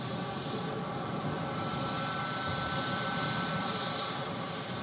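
A Jet2 Airbus A330 airliner landing at an airport, its engines giving a steady, loud, broad roar that holds for several seconds without a break.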